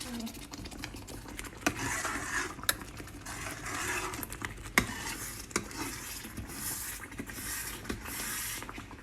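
A spoon stirs coconut milk pumpkin soup in a pot, steady scraping and swishing with soft sizzle and occasional clinks against the metal, a voice speaking faintly beside it.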